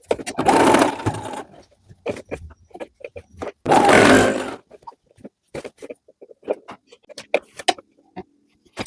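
Sewing machine stitching a women's vest: two loud motor runs of about a second each, with quieter handling noises and a few short stitch bursts between them.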